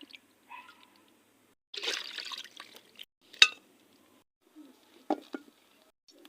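Small fresh puti fish being rinsed in water by hand during village cooking, with soft splashes and drips in scattered bursts, one brief louder slosh, close and fairly quiet.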